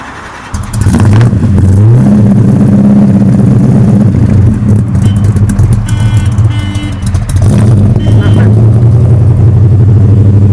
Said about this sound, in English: maybe I can talk you into firing it up for me here, so we can hear it.